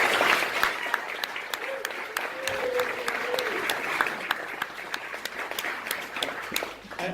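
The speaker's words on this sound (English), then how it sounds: "So we can just have a quick round of applause for Andie" Wedding guests at the speeches give a quick round of applause, many hands clapping close by in a brisk, uneven patter while a voice cuts in briefly over the top.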